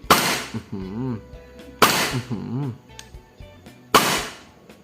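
Three sharp, loud pistol-like cracks from a Beretta M9 airsoft pistol spaced about two seconds apart, each a snappy slide action, with a voice talking between the shots.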